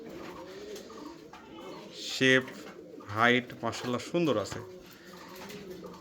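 Andalusian pigeons coo in a fancy pigeon loft: several soft, rolling coos stand out over background chatter, with someone talking close by throughout.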